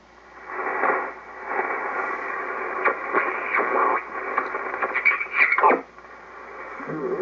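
Hissing static wavers and shifts as a Hallicrafters SX-146 receiver is tuned on the 80-meter band, with brief garbled bursts and warbling tones coming and going.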